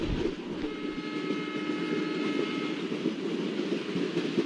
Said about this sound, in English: So let's slow our train.